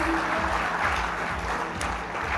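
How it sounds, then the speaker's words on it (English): Steady, dense applause from a large audience fills a contest grand finale event in Mumbai, a continuous wash of clapping with no talk over it. "Let's give a huge round of applause to all the participants."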